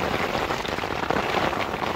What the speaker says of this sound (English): the rain is quite loud on this tent